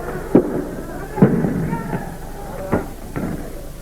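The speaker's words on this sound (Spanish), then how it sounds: "Se escuchan disparos de gases lacrimógenos." Several sharp, booming tear gas launcher shots fire at irregular intervals, some nearer and louder than others, over a noisy background with distant voices.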